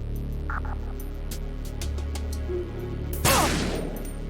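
A gunshot fired at a prisoner in Metal Gear Solid 2 cracks loudly near the end, a single sharp burst standing out over a steady low game hum and a few faint clicks.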